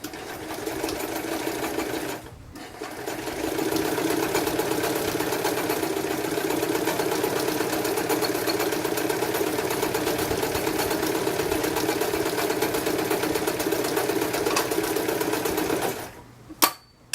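A metal sewing machine motor whirs steadily for over ten seconds, stitching two layers of quilter's cotton at an even pace before stopping, with a brief pause near the start.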